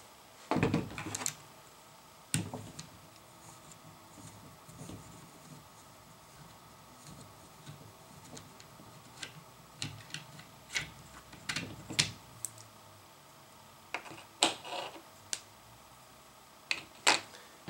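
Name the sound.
3mm Allen wrench turning rifle barrel screws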